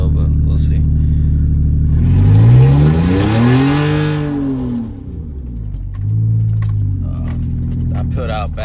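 A car with a 4.3 V6 engine revs and launches from a dig. The engine climbs to a loud rising rev, falls away, then revs again more briefly over a low, steady rumble.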